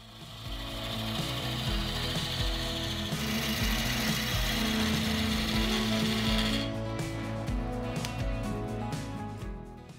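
A wood lathe spins a maple-style blank as a French rolling pin is shaped and tapered, with a steady, close, continuous whirring hum and rough scraping chatter of the cutting tool running for the whole stretch, tone shifting partway through.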